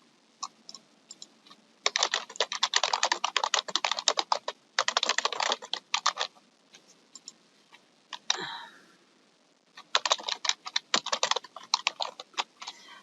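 Typing on a computer keyboard while entering case notes in an offline records application, with bursts of quick, close clicking keystrokes separated by short pauses, alone without talk.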